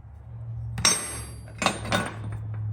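An old steel bumper bracket from a Daihatsu Hijet S510P is removed and set aside, giving a few sharp metallic clanks and clinks over a steady low hum, with no talking.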